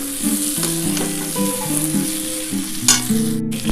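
Potato and cauliflower pieces frying together in oil in a pan, with a steady close sizzle, stirring clatter and a few sharp utensil scrapes, all under soft background music with no talking.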